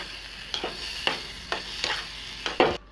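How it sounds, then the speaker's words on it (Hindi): Maggi noodles with boiled peas tossed and mixed in a pan: five or six distinct stirring strokes scraping the pan over a soft sizzle, close by and wordless, ending abruptly. "अब हम मैगी ऐड कर देंगे, ऊपर नीचे मिक्स करेंगे अच्छे से"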